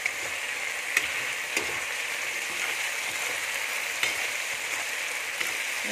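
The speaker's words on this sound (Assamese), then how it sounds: "এইফালে মাংসখিনি অকণমান মই হিলাই দিম" Chicken meat sizzles as it fries in a pan on an Assamese home stove, with a steady crackling hiss broken by a few faint clinks as it is stirred.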